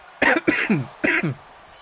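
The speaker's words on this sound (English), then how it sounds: "Fuck, I hate this cough." A person gives a few harsh coughs close up, two quick bursts followed by another after a short pause.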